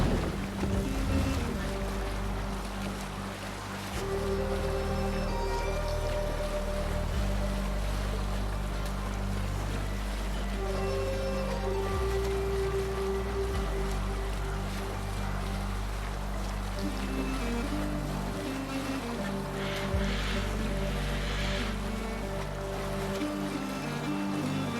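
A sailing ship at sea in the video game Assassin's Creed Valhalla, a continuous low rumble of water and wind against the hull with steady droning tones layered over it and faint voices at times.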